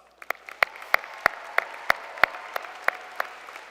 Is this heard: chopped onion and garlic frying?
no